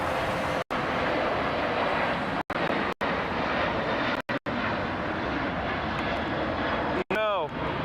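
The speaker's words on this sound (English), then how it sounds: "We have the rarest, the oldest United plane heading to San Francisco, delivered to them in 2002." Jet engines of a United Airlines airliner at LAX roar steadily and loudly throughout, a continuous broadband rumble with brief dropouts, a plane bound for San Francisco.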